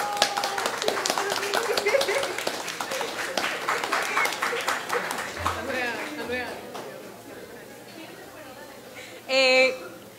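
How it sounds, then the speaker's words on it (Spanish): Audience clapping at the opening panel of a sociology colloquium, a steady spread of hands that fades out toward the end, followed by a brief sharp burst of sound. "Aplausos, por favor."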